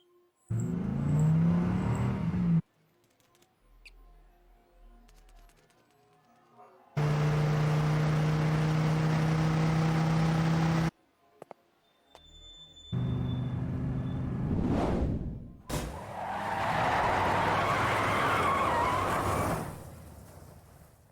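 Cars drive, rev and skid in the video game Deadly Premonition 2, heard as loud engine bursts and tire screeches broken by short quiet gaps, with no talking.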